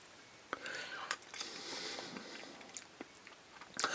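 Close, quiet bites and chewing of canned American SpaghettiOs, with soft clicks of a utensil and wet mouth sounds in a few short bursts.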